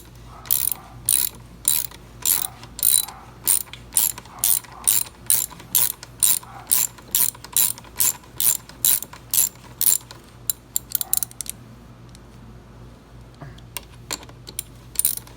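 A DeWalt ratchet loosens the rear brake bolt on a TTR motorcycle, giving a long run of fast, even, close mechanical clicks that stop and start briefly toward the end before falling quiet.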